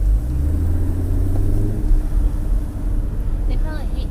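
A Camaro SS idles with a deep, steady low rumble, loud and close, while people talk over it and the engine note softens slightly partway through.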